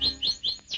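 A caged bird chirps in quick, bright, high tweets, about four short calls in under a second, close and clear with no talk over them.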